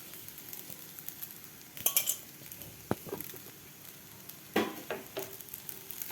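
Soaked sabudana (sago pearls) sizzling in hot oil with fried potatoes in a pan for sabudana khichdi, a soft steady crackle broken by a few sharp clinks and scrapes of a utensil against the pan.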